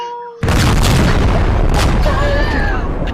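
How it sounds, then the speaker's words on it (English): A huge video game blast from a drone loaded with many IEDs erupts suddenly after a moment of quiet, then roars on as a loud rumbling boom with an excited voice heard over it. "That was one of the biggest explosions I've ever seen in my life"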